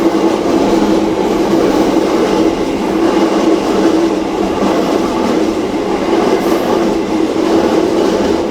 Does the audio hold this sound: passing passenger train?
yes